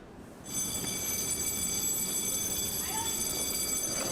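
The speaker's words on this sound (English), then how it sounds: "So that bell you're hearing is our club league timer, which apparently did not get turned off." A curling club league timer bell rings on continuously at an indoor rink, a steady bright tone starting abruptly and holding over a low rumble of the hall.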